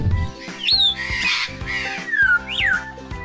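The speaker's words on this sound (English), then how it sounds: "What a cute, colorful bird." Colorful bird at a zoo gives loud, close squawks and whistles in repeated sweeping bursts, set against an ongoing low background hum.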